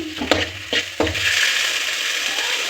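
Ingredients sizzle in a hot pan while cooking paneer and green pea masala: a steady, loud, close frying hiss with a few sharp stirring knocks and scrapes early on.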